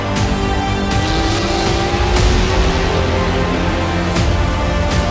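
Porsche race cars roar off at the start of the 2018 Le Mans 24 Hours, a dense, loud wall of engine noise with rising pitches as several cars accelerate past close by.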